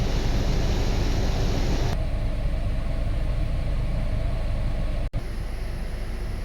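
A Nissan E25 van engine idles with the air conditioning running, giving a steady, close, low drone. The tone shifts slightly after a couple of seconds, and there is a brief dropout near the end.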